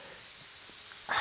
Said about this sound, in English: as we spray over the top of these brass rings, it's going to slightly darken over those